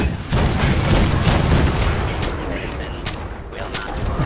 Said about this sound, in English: The cannons are fire at